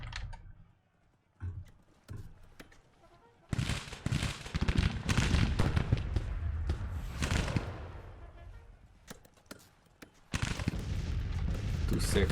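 Gunfire and cannon in the Civil War strategy game Grand Tactician build into dense bursts of crackling shots and booms, with quieter gaps between intense stretches and occasional sharp single reports.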